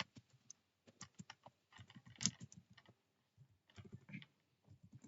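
Close, quiet typing on a computer keyboard, entering a search into Google, comes in quick bursts of key taps separated by short pauses.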